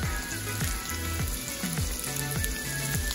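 Butter and olive oil sizzle steadily in a pan while making turkey bacon carbonara, giving a continuous crackling hiss up close with a faint rhythmic tonal pattern running underneath.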